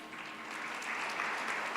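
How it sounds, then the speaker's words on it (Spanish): An audience claps for the panelists at a tourism policy panel, faint at first, then swelling into steady, even applause. "Les pediría que les diéramos un fuerte aplauso."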